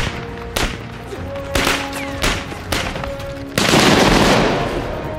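Bursts of gunfire from a World War II film scene, Nazi German soldiers firing on British and French troops, crack out at intervals, then a rapid, sustained volley rattles loudly near the end, echoing like a battle scene.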